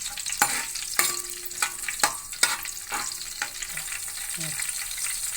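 Green chilli pieces frying in hot oil in a pan for a prawn and drumstick curry, a loud steady sizzle broken by sharp rhythmic spatula scrapes and clinks roughly every half second.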